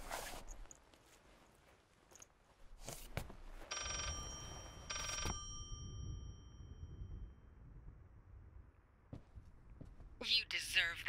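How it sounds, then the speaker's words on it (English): A telephone in the horror video game Layers of Fear rings in two short bursts against a dark, rumbling background, with scattered thuds and a few other noises later on. "I have PTSD from a phone ringing."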